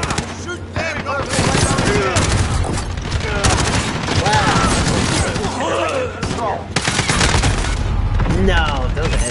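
Dense video-game gunfire from Call of Duty: Modern Warfare, with rapid automatic bursts and booming shots that run almost continuously, loud and close, while a player talks over it.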